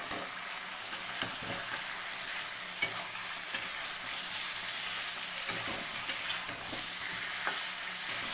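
Potatoes are stirred into chicken curry frying in a pan. A steady oily sizzle runs throughout, broken by periodic scraping clicks of the spoon, with no talk.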